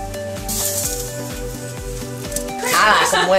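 Food sizzles on a barbecue grill in a steady hiss, partly buried under loud rhythmic background music.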